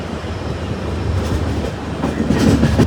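A passenger train on the Mysuru to Shirdi route rolls along with a steady rumble and rhythmic clickety-clack of wagons over the rails, heard from inside, loud and continuous with no talking.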